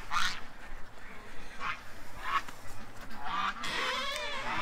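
Ducks quacking in a yard, several loud bursts of quacks spaced irregularly over a noisy outdoor background.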